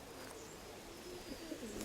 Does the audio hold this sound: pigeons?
yes